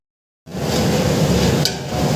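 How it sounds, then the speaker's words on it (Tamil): Green chillies and onions sautéing in a pan for a hotel-style kurma, a steady loud sizzle that starts abruptly and runs on evenly with a faint clink partway through. "பச்சை மிளகாவை சேர்த்துட்டு ஒரு 2 நிமிஷம் பச்சை மிளகாவையும் நல்லா வதக்கி விட்டுக்கிறாங்க"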